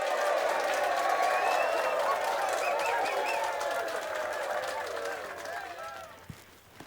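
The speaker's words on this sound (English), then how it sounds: "I think we deserve another round of applause." A crowd applauds and cheers at the end of a 120-mile walk along the Nene Way at Sutton Bridge, loud and sustained for several seconds, then fading away toward the end.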